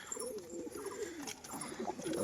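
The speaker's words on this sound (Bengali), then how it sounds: "পুরো একদম মেতে রয়েছে পায়রা" Domestic pigeons, a male and female pair, coo in a home loft with soft, repeated throaty rolling calls that continue steadily and close by, with no talking.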